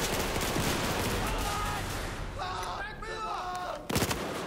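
FAMAS rifle gunfire in a Battlefield 4 naval battle over the South China Sea, dense rapid shots blending with explosions and game noise, ending in a louder burst near the close.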